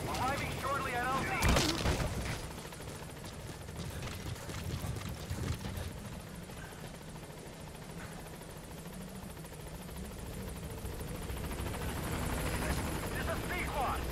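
A helicopter arrives in the video game Metal Gear Solid V: The Phantom Pain, its rotor throbbing steadily throughout over a sharp loud burst near the start, with other game noise around it.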